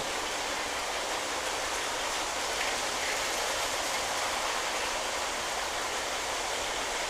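A model Amtrak train runs on a layout with a steady, dense, hissing rumble that holds constant and close throughout, with no pauses or talk.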